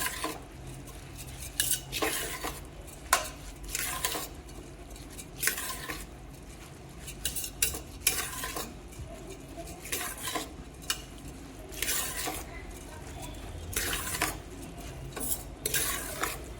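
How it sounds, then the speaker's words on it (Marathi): Masala rice with dal stirred and mixed in a pressure cooker, repeated scraping clinks of a spoon against metal at an uneven rhythm over a low sizzle, close and moderately quiet. "आता याला चांगला मिक्स करूया."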